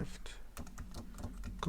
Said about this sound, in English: we'll just type it in here